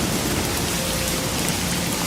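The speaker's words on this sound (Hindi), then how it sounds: "बारिश तेज हो गई।" Heavy rain pours down in a dense, unbroken hiss, steady and loud with no voices.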